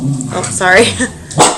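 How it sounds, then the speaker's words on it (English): A pet dog barks at home, with a short, sharp bark cutting in among a person's nearby talking. "Finishing this recording at home, that was my dog"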